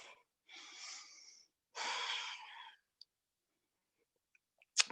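Two long, airy breaths in a yoga high lunge, an inhale and then a fuller exhale, close to the microphone in a quiet room, followed by silence and a few faint clicks.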